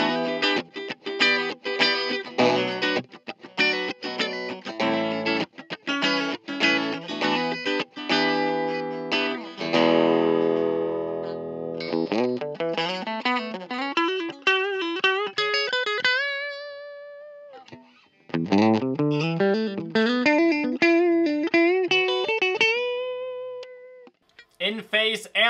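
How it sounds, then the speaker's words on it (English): A 1970s Kay/Univox Effector Les Paul electric guitar with its pickups out of phase, giving a thin tone as choppy chord stabs give way to sustained, bending single notes that ring out alone and loud. "Out of phase."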